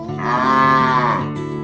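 Cattle in New Zealand countryside give a single loud, sustained moo lasting over a second, close and clear with no talking.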